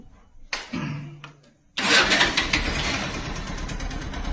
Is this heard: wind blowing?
no